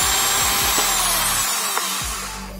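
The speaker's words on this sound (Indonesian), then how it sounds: "Sekarang kita bor bagian tengahnya sampai tembus" A power drill with a 4 mm bit whines loudly and continuously up close, its pitch shifting slightly as it bores through a piece of bamboo, with no speech.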